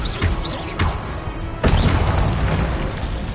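A spell blast in a wizarding video game booms loudly as a deep, dense explosive burst with crashing impacts, one strong hit landing partway through over sustained rumbling effects.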